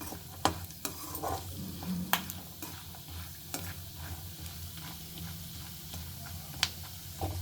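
Roasted gram sizzles in oil in a pan for a puffed rice mixture, a steady close frying hiss broken by sharp ladle taps and scrapes as it is stirred, with no speech.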